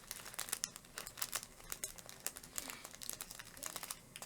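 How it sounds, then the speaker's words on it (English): Close, quiet crinkling of plastic packaging being handled, in irregular bursts of rustles and crackles over a few seconds, with no voice. "sorry about the crinkling"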